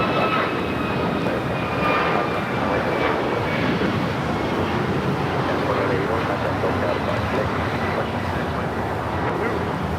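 A United Airlines Boeing 737 MAX 9 jet at Los Angeles International Airport produces a loud, continuous engine roar that holds steady throughout, with some wind buffeting on the microphone.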